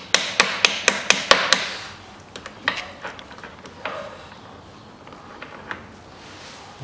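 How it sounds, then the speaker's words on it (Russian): Hammer striking a nut while replacing the steering rack on a 2008 Chevrolet Epica: seven sharp, evenly spaced metallic blows in quick succession, then scattered lighter knocks and clatter fading off, close by, with no speech. "Бью по гайке."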